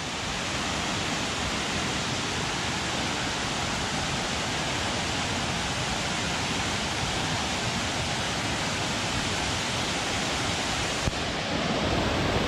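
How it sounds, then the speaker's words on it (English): Rocky Brook Falls on a Washington river trail pours steadily, a loud, continuous broadband rush of falling water close by that never lets up, with no voices over it. "let's get this waterfall right over here around the corner"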